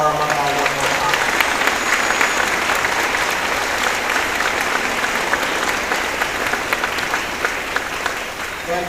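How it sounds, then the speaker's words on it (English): A large audience at a high school band's 100th anniversary concert gives sustained, loud applause for returning band alumni, dense clapping with crowd noise throughout. "Can we get a round of applause for all our alumni one more time?"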